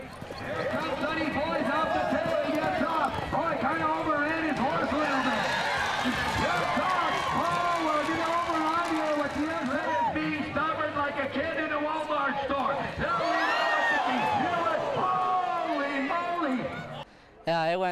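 Horses running in an Indian relay race across treaties 6, 7 and 8, with hooves and crowd noise mixed under steady talk from a reporter and commentary throughout.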